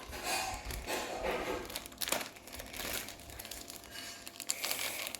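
Flipkart parcel packaging being unboxed, with steady close crinkling and crumpling of plastic wrap and sharp bursts of tearing throughout, no talk over it.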